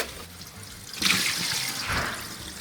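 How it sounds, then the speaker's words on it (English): Water rinsing soap residue off an air fryer basket, a close splashing gush from a tap that starts abruptly and keeps flowing for a couple of seconds. "Lots of soap residue we shall rinse off. First, I'm gonna dump all of that out. And now for the rinse."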